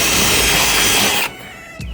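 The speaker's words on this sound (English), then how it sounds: "put that in line over the top and drill straight through" A power drill runs loud and close as it bores straight through the head of a pop rivet, a high steady whine that cuts off abruptly, followed by a brief clatter.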